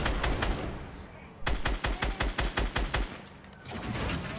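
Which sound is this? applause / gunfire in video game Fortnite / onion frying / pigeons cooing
gunfire in video game Fortnite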